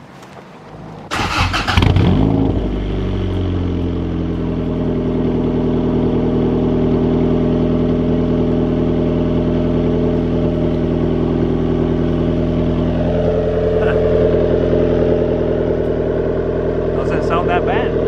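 A turbocharged Honda Civic fitted with an eBay turbo kit and a new exhaust system starting up for the first time: a brief crank, then the engine catches and settles into a steady, loud, deep idle that continues alone.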